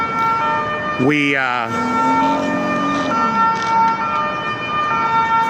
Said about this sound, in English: The ambulances are just not stopping today.